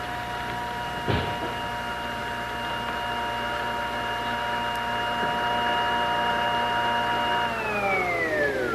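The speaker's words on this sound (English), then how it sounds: "Well, the elevator should be here any moment." Elevator arriving in a radio drama, a steady mechanical hum with layered tones, a sharp knock early on, and the pitch gliding down as the car slows to a stop near the end.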